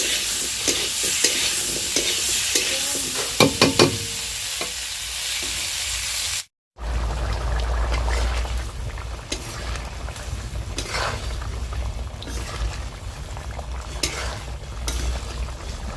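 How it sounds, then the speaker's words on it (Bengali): Boiled potatoes fry in a pan, a loud continuous sizzle with scraping stir strokes in the first half, a brief cut, then a steadier, deeper frying hiss. "আলুগুলো যাতে সিদ্ধ করাই আছে, একটু ভেজে নিচ্ছি"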